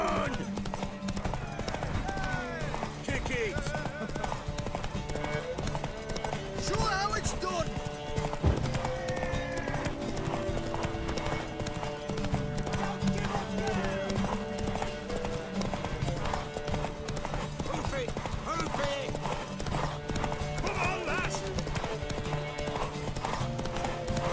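Rapid hoofbeats of a galloping horse in The Witcher 3: Wild Hunt drive on continuously beneath music and game sound effects, loud and dense throughout.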